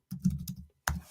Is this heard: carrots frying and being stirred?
no